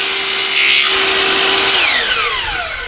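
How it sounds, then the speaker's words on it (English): A chop saw trims aluminum U-channel for a fence gate, giving a brief high-pitched whining cut with a steady tone that drops in pitch as the motor winds down near the end, close and loud with no voices. "So again, chop saw again."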